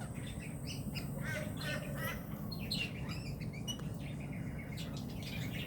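Australian figbirds calling at Daisy Hill Conservation area, a scattering of short chirps and squawks from several birds over a steady hum of background noise, moderately distant.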